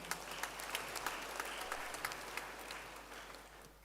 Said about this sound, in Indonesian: Mohon tepuk tangan untuk para wisudawan ini semua.